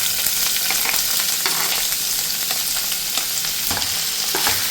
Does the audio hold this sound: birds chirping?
no